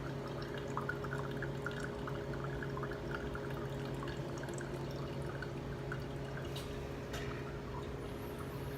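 Coffee drains through a V60 pour-over filter, faint trickling and soft drips over a steady low background hum, quiet and close, with no talking.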